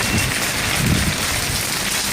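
Heavy monsoon rain in the Malnad hill region, driven by an Arabian Sea cyclone, pours steadily in a dense, loud, unbroken hiss with no voices.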